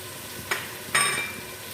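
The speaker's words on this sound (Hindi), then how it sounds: "खड़े मसालों को भी हम फ्राई कर लेते हैं।" Whole spices such as cinnamon stick and black cardamom frying in hot oil for chicken masala yakhni pulao, two short sizzling bursts close by over a quiet background hiss.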